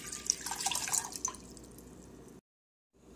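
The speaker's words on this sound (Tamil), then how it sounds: "அதுக்கு 5 டம்ளர் தண்ணி ஊற்றிக்கலாம்." Water pours and trickles into a cooking pot for kale soup, splashing most brightly at first, then thinning to a soft trickle before cutting to silence.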